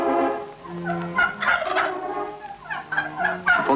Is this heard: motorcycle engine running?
no